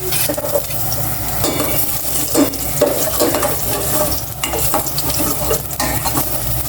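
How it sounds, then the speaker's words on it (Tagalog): Garlic sizzles steadily in a hot pan, with frequent scraping and clinking from a utensil stirring it close by, and no talking. "Magigisa na po siya ng bawang."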